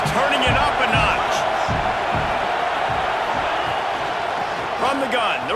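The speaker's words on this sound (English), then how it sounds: "this crowd is turning it up a notch" A stadium crowd roars steadily in a Tulane versus UAB college football video game, rising into a loud, dense wall of noise with occasional sharp thumps and commentary voices over it.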